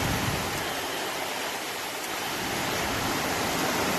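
Steady rain falls in an even, dense hiss that holds constant throughout with no voices.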